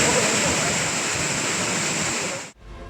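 Courtallam main falls gives off a steady, loud, close rushing roar of falling water that cuts off abruptly near the end.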